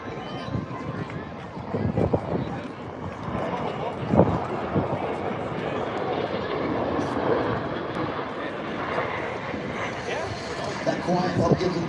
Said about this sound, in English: From the right, the C-17 demo team, the high-speed pass.